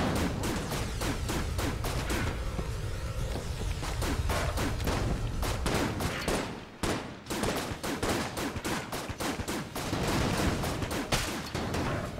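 Dense video game gunfire in Enter the Gungeon, rapid continuous shots with crashes and whooshes, loud and sustained, with a brief lull midway before the barrage resumes.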